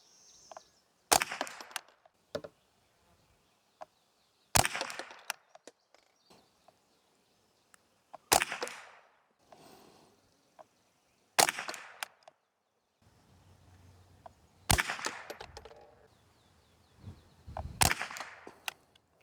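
Aguila subsonic .22LR hollow points fired from a Savage Model 64 rifle on a 100-yard range, a series of sharp, fairly quiet cracks spaced a few seconds apart, with faint handling noises between shots.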